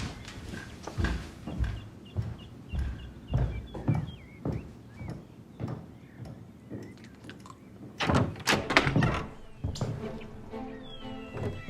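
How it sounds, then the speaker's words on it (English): Knocking on a wooden door inside a house, heard as a long run of sharp thumps with irregular gaps, grouped into bursts that grow louder and denser toward the end, with no talking. "go and knock"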